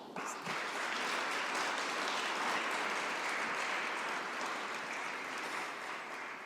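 Sustained applause from a crowd at a reception for Slovenia's Special Olympics delegation, many hands clapping densely and evenly for several seconds with no talking.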